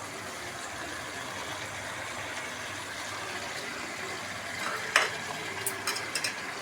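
Spiced chicken for a chicken rezala frying in a pan, a continuous, even sizzling hiss close by, with a few brief clattering stirs near the end and no speech.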